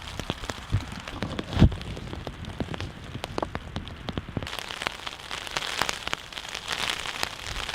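Rain patters steadily on a tent close by, with scattered heavier drops tapping irregularly against a constant wet hiss.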